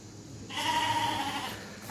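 Lambs bleating in a farm setting near a workshop, a sustained wavering cry that starts abruptly and holds for about a second before fading, fairly close and clear over a low background hum.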